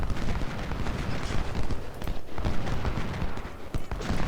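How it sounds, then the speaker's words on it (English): Long-range Civil War artillery in Ultimate General: Civil War fires in a dense, continuous barrage of overlapping booms and cracks, loud and rumbling throughout. "And our long range artillery can open up on"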